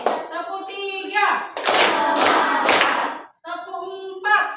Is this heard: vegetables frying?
no